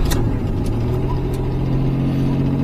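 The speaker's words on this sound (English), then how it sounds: "Does sound like definitely another exhaust leak in there." Pontiac Fiero GT engine warming up, with an exhaust leak, giving a steady, loud, continuous idle rumble that stays even throughout with no talking.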